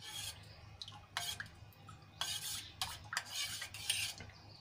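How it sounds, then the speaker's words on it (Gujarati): A spoon stirring spices into buttermilk gives soft scraping and light clinking in bursts, close and fairly quiet, with no talk. "બધું સરસ રીતે છાશમાં મિક્સ કરી લઈશું."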